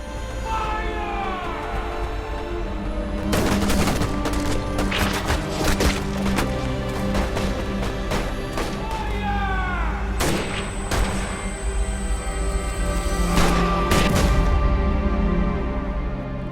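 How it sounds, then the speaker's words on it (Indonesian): Gunfire in an action film: repeated bursts of sharp, loud shots crack out in clusters over a sustained tonal score and rumbling background. "Penembakan terus terjadi hingga malam."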